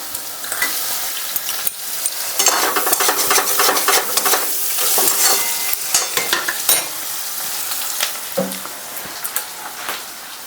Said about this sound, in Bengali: এবার কড়াটা গ্যাসটা একটু আস্তে করে দিয়ে ভাজবো।